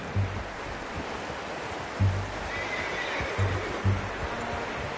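A horse in the video game Red Dead Redemption 2 neighs over a steady bed of outdoor ambience, with a few low dull thumps from hooves scattered through, moderately quiet and with no voices.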